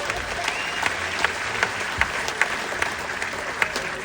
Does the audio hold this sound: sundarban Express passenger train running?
no